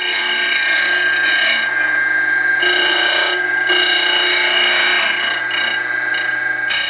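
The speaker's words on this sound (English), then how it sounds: "I'll also use my 12-inch disc grinder to get some nice 90-degree edges." A 12-inch disc grinder squaring the edges of a knife blank gives a loud, continuous abrasive rasp with a steady whine. Its grinding tone shifts as the steel is pressed on and eased off, with no talk.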